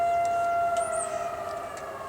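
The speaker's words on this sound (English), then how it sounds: "Please excuse the siren in the distance." Siren wailing in the distance with a steady high tone and a soft rising sweep, faint against outdoor background noise near an auto shop.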